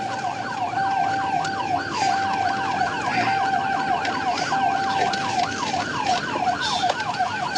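Wailing police siren from a state trooper's cruiser during a high-speed pursuit, rising and falling in steady repeated sweeps, loud and continuous over road noise with a steady tone beneath.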